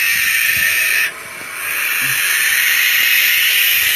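Baby barn owls give a steady, loud, close hiss that runs almost continuously, briefly dipping before resuming.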